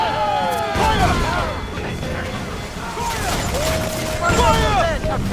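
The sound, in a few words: ship cannon fire in Assassin's Creed Freedom Cry video game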